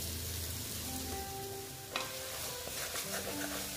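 Spices with turmeric frying in a pan, a steady close sizzle with a sharp spatula knock and light scraping strokes as they are stirred, no voices.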